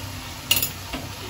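Minced chicken with salt is stirred in a pan: a single brief scrape of a utensil against the metal, with a faint second touch after, over a low steady background hum.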